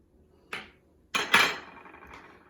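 Rice vinegar and sugar are stirred in a bowl: a utensil clinks and scrapes against the bowl in three or four sharp, close knocks, followed by a brief scraping ring.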